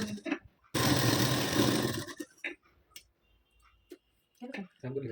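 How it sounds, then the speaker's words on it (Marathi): Sewing machine stitching a blouse seam, a dense mechanical whirr lasting over a second, with someone speaking briefly before and after and scattered handling clicks. "बघा, अशा पद्धतीने व्यवस्थित शिलाई देऊन घ्यायची आपल्याला."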